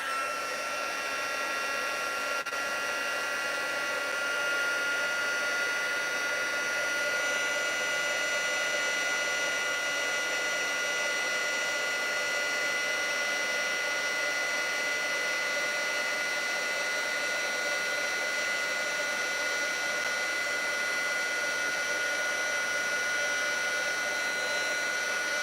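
A heat tool blows hot air over a craft project, a constant loud whooshing roar with a steady high whine that holds unbroken and unchanging from start to finish.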